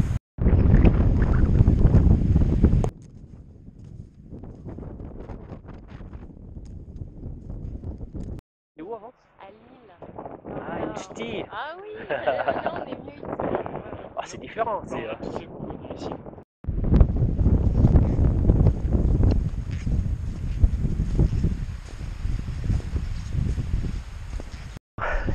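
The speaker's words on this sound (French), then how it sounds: "il y a du vent" Strong wind on a snowy, sunny alpine mountainside buffets the microphone in loud roaring gusts, easing into a quieter stretch in the middle where people talk, then roaring back.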